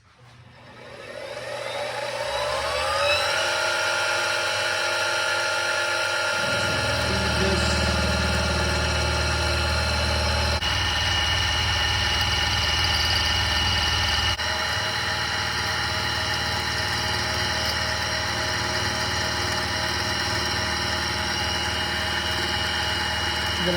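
A small milling machine runs steadily as it trims small wooden sticks. Its motor holds a continuous, close whine and drone that shifts in tone partway through, with no voices.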